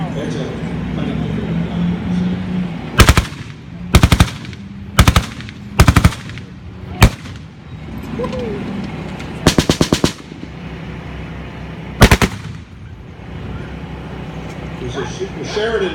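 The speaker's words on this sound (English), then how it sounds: "That big nasty noise you hear is a 50 caliber Browning" A Browning M2 .50 caliber heavy machine gun fires several short, loud bursts at irregular intervals over a steady engine rumble at a war reenactment at a tank museum in Ontario.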